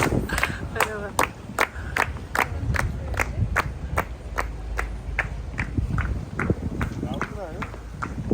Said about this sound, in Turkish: Karşılıyorlar bizi. Alkışlanıyoruz.